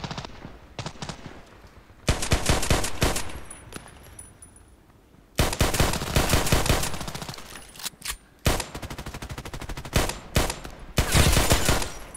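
Video game pistol fire comes in rapid bursts of sharp, loud shots separated by quieter gaps, close up with no voices.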